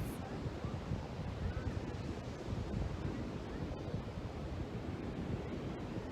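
Ocean surf rolls in steadily with wind buffeting the microphone, a continuous dense wash of breaking waves and gusts heard up close, loud and unbroken throughout with no voices.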